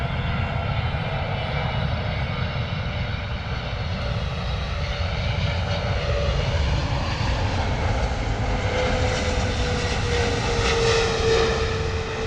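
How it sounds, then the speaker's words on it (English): An American Airlines Boeing 777 landing at London Heathrow, its engines a steady, fairly close roar with whining tones that slowly shift in pitch as it passes, heard alone. "Couple of corrections there from the American Airlines Boeing 777."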